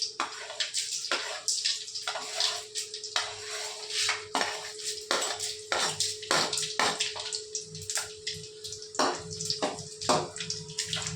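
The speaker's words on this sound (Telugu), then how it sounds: "నూనె కాగుతుంది. ఫస్ట్ తిరువాత గింజలు వేస్తుంది ఫ్రెండ్." Seeds are poured by hand into hot oil and crackle and sizzle in quick, uneven bursts, with a light clatter and a faint steady hum underneath.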